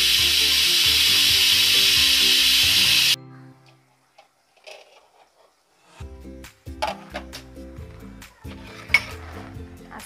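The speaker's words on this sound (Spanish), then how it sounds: "Sacamos el aire a la olla." A pressure cooker of rib broth vents its steam in a loud, steady hiss for about three seconds before cutting off abruptly. Quiet clattering and scraping of the pot follow.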